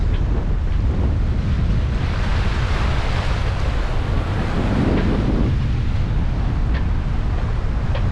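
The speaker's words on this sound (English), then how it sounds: "plenty of wind, plenty of waves." Ocean waves surge and a strong 22 to 27 knot wind roars past while sailing off the Canary Islands, a loud, unbroken rush of wind buffeting the microphone over the constant wash of the sea.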